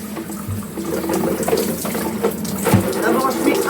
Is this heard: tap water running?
yes